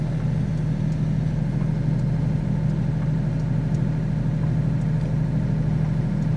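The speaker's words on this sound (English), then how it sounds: "So that's the generator on." A home off-grid generator runs steadily at close range, a continuous low engine drone with a mid-frequency hum and no voices.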